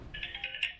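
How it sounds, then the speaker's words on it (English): A short electronic phone ringtone chirps in a quick warbling burst, fairly faint and alone, cutting off after under a second. "Sorry about that phone call."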